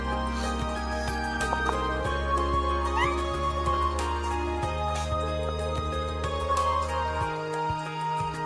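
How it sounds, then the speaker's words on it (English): A house cat gives a brief, faint meow beneath steady video game music from The Legend of Heroes: Trails of Cold Steel. "Heard a little meow."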